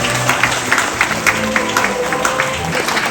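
Wedding guests clap steadily through a ceremony hall, a continuous crowd of hands under a low murmur, fairly close and even in level.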